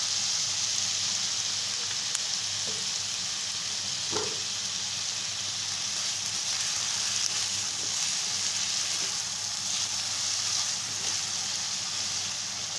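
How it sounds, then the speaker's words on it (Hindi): Chicken manchurian fries in chili garlic sauce with a steady, close hiss and sizzle and a few small pops, and no one talks. "इसको 2 से 3 मिनट के लिए मैं फ्राई करूँगी"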